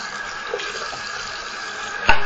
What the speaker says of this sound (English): you're going to run some warm water